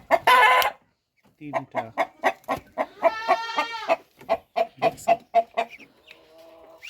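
Large Boro hens cluck on a small farm in a rhythmic run of short, close clucks, with a single spoken word partway through.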